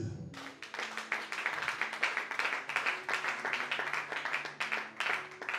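A church congregation clapping in steady rhythm while praising the Lord, with a continuous run of close, crisp handclaps and faint sung or voiced tones beneath.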